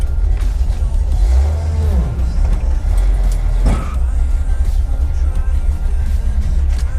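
A car engine drones steadily while driving, captured on a GoPro, with loud low rumble, road noise and a brief rising rev or shift midway, no talking.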